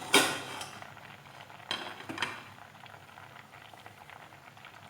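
A metal lid comes off a covered pot of half-cooked erissery with pumpkin and lentils, giving a couple of close clanks and clinks over a faint bubbling simmer, no talking.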